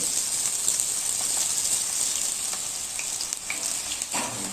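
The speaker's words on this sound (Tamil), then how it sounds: "எண்ணெய் சூடாகிடுச்சு வாங்க பக்கோடா போடலாம்" Vegetable pakoda batter fries in hot cooking oil, giving a loud, continuous bubbling sizzle with a few faint clinks, heard close with no talking.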